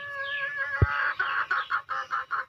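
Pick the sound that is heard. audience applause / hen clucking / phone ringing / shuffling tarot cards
hen clucking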